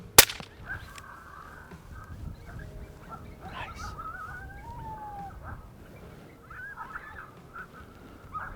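Coyote pup distress calls play during a breeding-season coyote hunt, with faint yelping and wavering whines drifting over a hissy outdoor background after a sharp opening crack.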